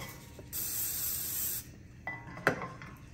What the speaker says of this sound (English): I'm gonna use a little pan spray